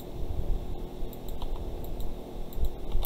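Shortcut keys pressed on a computer keyboard: a run of quiet, sharp key clicks and taps at an uneven pace, close by, with a low background hum and no talking.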